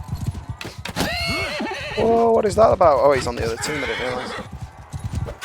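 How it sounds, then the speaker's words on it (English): A horse in Mount and Blade Bannerlord clip-clops along with its hooves, and a loud whinny rises in the middle, while someone talks over the galloping throughout. "Come on, horse, get in gear."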